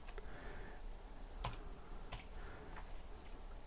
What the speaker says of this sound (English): I type in any name of a person.